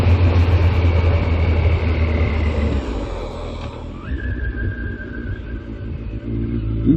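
A Suzuki GSX1400 K2 motorcycle rides along with a steady low engine drone and broad wind rush, which thins out midway before the engine note builds and rises again toward the end.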